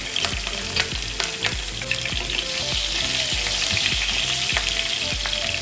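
Steady, loud sizzling of hot oil tempering with curry leaves and chopped green chilli, with faint regular clinks of a utensil against the pan throughout.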